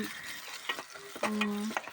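Sliced onions soften in a pan as ginger-garlic paste goes in for a village-style mushroom curry. The quiet, close sizzle comes with a few light stirring scrapes and brief clicks over a short stretch.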